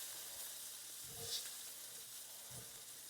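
Beef chunks searing in a very hot pan for a beef and barley stew make a steady, faint, broadband sizzle that holds evenly throughout, with a couple of soft low knocks and no talking.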